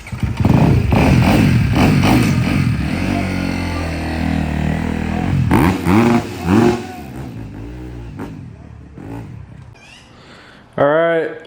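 Motocross motorcycle at a pro motocross race revving and riding off, loud close engine with rising and falling revs, then fading as it moves away while people talk, with a brief sharp burst near the end.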